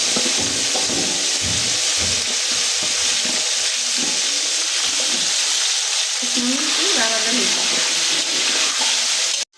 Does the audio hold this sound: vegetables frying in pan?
yes